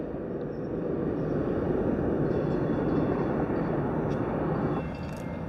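Train rumbling past near a railroad crossing on a mountain, a steady broad roar at moderate distance that fades slightly toward the end.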